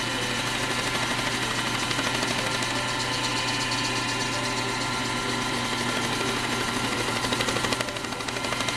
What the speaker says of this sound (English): as we apply the buffing cloth to the bowl, you'll see that change